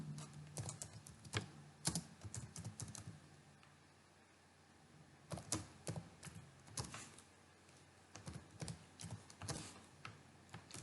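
Rapid clusters of computer keyboard keystrokes, close and fairly quiet, in two bursts separated by a pause, with no talking.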